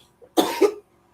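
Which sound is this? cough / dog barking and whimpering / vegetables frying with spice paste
cough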